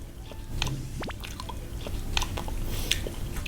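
Crunchy, wet chewing of crispy pork belly with spicy Thai papaya salad, close to the mic, with a few sharp bites and squishy mouth sounds over a couple of seconds and no talk.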